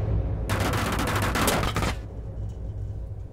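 Rapid gunfire in Rainbow Six Siege during a ranked match, one dense burst of shots lasting about a second and a half over steady game background noise.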